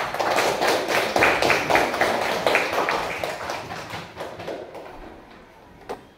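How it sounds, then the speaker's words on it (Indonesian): A sixth-grade class clapping hands together in an Indonesian classroom, a rapid run of sharp claps that starts loud and close, then thins and fades over several seconds, ending with one last isolated clap. "tepuk tangan dulu buat kita semua"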